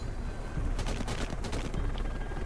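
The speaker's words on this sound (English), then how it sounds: "Firing at the target." Gunfire in the zombie survival game Deadlight on PC, a rapid cluster of sharp shots bursting out in the middle over a dense, rumbling background.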